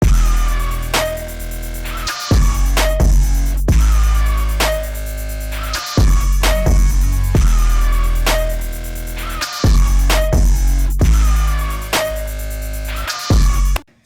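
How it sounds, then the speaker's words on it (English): A beat with a reverb-soaked accent snare striking on the offbeats over deep bass and repeating chords, steady and upfront throughout. "I added an accent snare to cover the offbeats"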